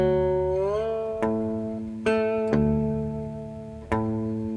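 A slide blues phrase played on a cigar box guitar, with gliding pitch into ringing notes and several sharp plucked attacks that decay slowly. Each note is clear and close, with no talk.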